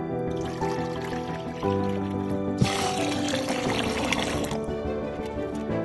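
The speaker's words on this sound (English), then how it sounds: "I am washing my basmati rice thoroughly" Basmati rice being washed in water in a pot, with a steady pouring, trickling wash of liquid throughout that grows louder and splashier partway through, heard alone.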